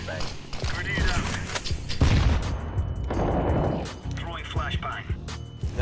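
A grenade blast in the game CS:GO on the Inferno map, among loud thuds, gunshots and mechanical clatter in a busy firefight, with voices talking over it.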